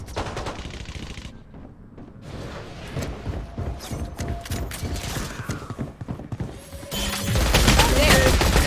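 Rapid automatic gunfire spraying through smoke in a Valorant match, dense fast bursts running through most of the stretch and swelling louder toward the end, with a caster talking over the shots.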